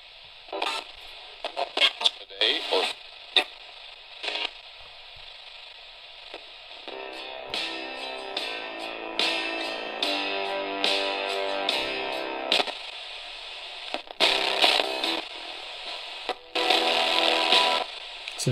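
RunningSnail MD-090 AM FM NOAA emergency radio being tuned across the FM dial, giving bursts of static, crackle and fragments of broadcast music and voices that come and go, fairly quiet and close.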